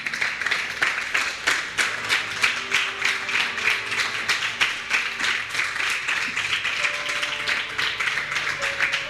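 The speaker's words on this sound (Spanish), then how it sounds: "¿Cuánto aplauden fuerte a Jesús?" A church congregation claps loudly for Jesus during a sermon. The hands beat in a fast, steady, unified rhythm that holds throughout, and faint tonal sounds sit beneath the clapping.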